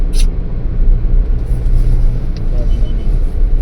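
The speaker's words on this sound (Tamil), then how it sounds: "சிஎன்ஜி வண்டி கும்முன்னு வராரு" A CNG vehicle rushes past at speed on an open desert road near Jaisalmer, a loud close engine and tyre roar with strong wind rumble throughout, briefly swelling as it passes.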